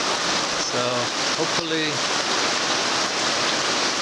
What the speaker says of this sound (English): I may wait for the rain to settle down a little bit